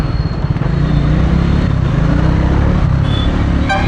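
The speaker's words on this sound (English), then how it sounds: "when you roll off that throttle, you get a nice little growl from the exhaust" Triumph adventure motorcycle on a road in India, its exhaust giving a steady low growl and burble as the throttle is rolled off, close and continuous with traffic-like clatter in the background.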